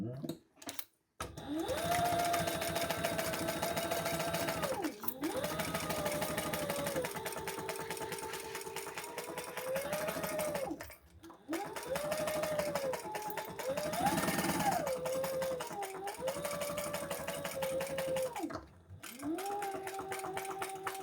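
A sewing machine bastes the sides of a crossbody bag in several runs of rapid mechanical stitching, each burst pitching up and down with the pedal and separated by short pauses.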